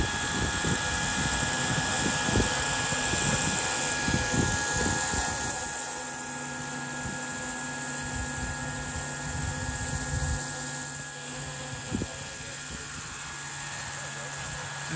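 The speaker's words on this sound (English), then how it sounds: "Tyler's MI-8. The Tyler Gray model's flagship" The rotor of a large-scale model Mil Mi-8 helicopter runs at a flying-model event, giving a steady high turbine whine over a low rotor chop throughout. People talk nearby at the start.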